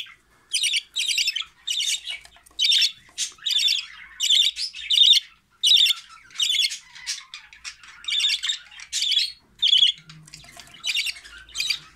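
Female budgerigars of the Japanese variety squawk and chirp in close, harsh bursts, roughly a dozen and a half sharp calls in quick irregular succession.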